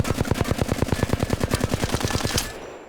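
The Flatline rifle fires full auto in Apex Legends, a fast steady burst of about two dozen punchy shots in even rhythm, loud and close, cutting off just before the end with a brief tail.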